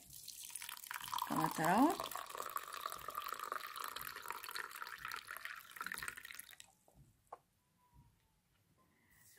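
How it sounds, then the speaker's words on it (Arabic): Boiling water is poured from a kettle onto fennel seeds in a cup, a steady close splashing stream that rises in pitch as the cup fills, then stops, with a few faint clinks and a brief voice afterward. "ونضيف إليه كوب ماء مغلي"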